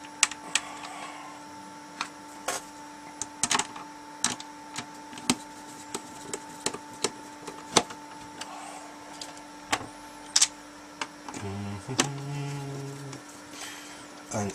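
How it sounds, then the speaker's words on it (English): Four screws go back into an Atari 2600 Jr console case, producing sharp, close clicks and scrapes at irregular intervals over a faint steady hum, followed by a short whirring burst near the end. "Now we put the four screws back in it."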